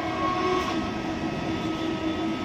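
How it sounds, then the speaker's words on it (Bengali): A local train pulling into Kavi Subhash metro station near New Garia in South Kolkata, a steady loud rumble of wheels and carriages close by with a faint tonal whine, continuous throughout. "একটা তো ট্রেন এসছে আর একটা ওই দিক দিয়ে ঢুকছে।"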